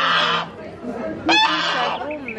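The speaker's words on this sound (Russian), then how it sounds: "вон цыплятки какие" Chickens cluck and squawk close by in a short, busy burst, with a sharper call partway through and softer fowl sounds between, over a light background.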